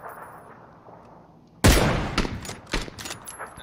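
Gunfire in a first-person shooter game, a sudden loud burst that starts partway in and is followed by several sharp shots spaced out over quiet background, with no talk.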